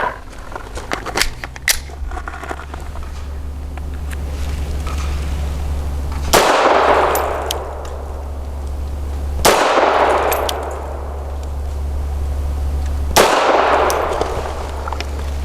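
Grand Power LP380 pistol firing Federal Premium Hydra Shock 90 grain rounds outdoors: three loud, sharp reports spaced a few seconds apart, each followed by a ringing decay over a steady low hum.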